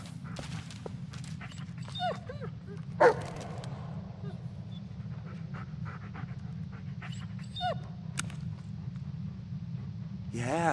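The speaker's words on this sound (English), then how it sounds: "Good dog." A dog in the Blair Witch video game pants steadily and close, with occasional short yips and whines breaking through over a low continuous background hum.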